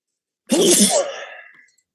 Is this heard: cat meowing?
no